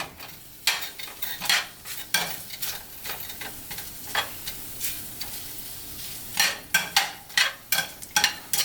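Ramen noodles with butter are stirred in a pan, giving a run of quick, close scraping strokes over a soft sizzle, bunching into faster bursts toward the end.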